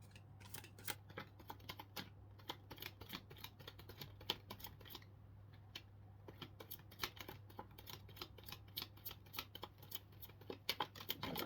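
Tarot cards being shuffled by hand: quiet, close, rapid clicking and riffling that comes in dense bursts over a steady low hum, with no voice.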